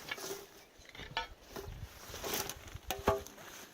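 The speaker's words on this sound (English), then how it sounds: "And we get some stove plates." Old metal stove plates at a collapsed building are handled, giving scattered clanks, scrapes and light metallic knocks at close range.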